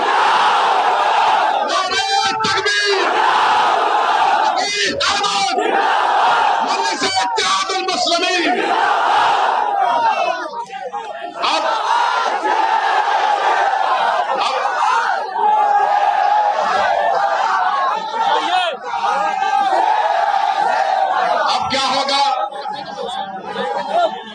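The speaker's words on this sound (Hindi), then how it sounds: "अगर सच कहा तो नारा लगा हमारे साथ, नारे तकबीर।" Large political rally crowd in Prayagraj loudly chanting the Takbir slogan in repeated bursts of massed voices, with cheering and chatter filling the gaps throughout.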